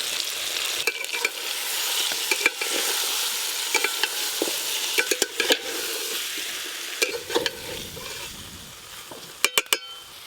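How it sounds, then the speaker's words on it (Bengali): A spoon stirs fried egg, cauliflower and potato through sizzling masala in a pan for a meatless dum biryani, with steady frying hiss and scattered scraping clicks of the utensil against the metal. "ভেজে রাখা ডিম, ফুলকপি, আলু সব কিছু দিয়ে মশলার সঙ্গে আর একটু ভালো করে সব কিছু কষে নেব।"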